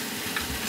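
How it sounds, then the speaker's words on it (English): Beef frying in a pan over very low heat is stirred and broken up, a soft steady sizzle with low scraping and shuffling strokes of the utensil, close and continuous. "we'll give our beef a mix here and just breaking that up a little bit more"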